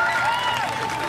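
Audience applause and cheering at a live freestyle rap show fill the space loudly and steadily from start to finish, a dense wash of many hands with a crowd roar mixed in.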